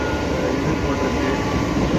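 An ordinary local passenger train runs with a steady, dense rumble and rattle from close by, continuous and fairly loud with no pauses.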